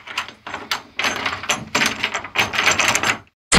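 A stuck office door being pushed and rattled hard, bursts of loud clattering and banging in repeated surges with brief pauses, close by and alone.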